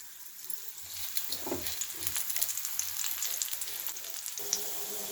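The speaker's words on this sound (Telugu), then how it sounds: "ఎండుమిర్చి వేసుకొని పచ్చికరివేపాకు" Two dried red chillies and fresh curry leaves sizzle and crackle in hot oil, a steady bright frying hiss with scattered pops, close and moderately quiet.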